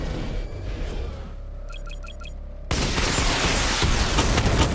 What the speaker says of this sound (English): Charge up missile barrage to level 2 and destroy 4 active targets